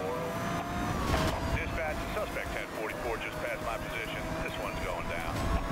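Car engine in the racing game Need for Speed Rivals on an icy route, revving and shifting under constant play, with a person talking over it.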